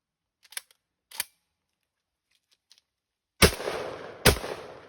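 A Panzer EG200 12-gauge shotgun fires birdshot outdoors at a range, two loud, sharp blasts near the end, each with a ringing tail, after a few light clicks and handling sounds.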